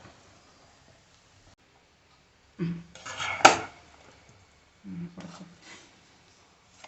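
A few brief bursts of scraping and metallic clatter as noodles are stirred in a metal pot, separated by quiet pauses.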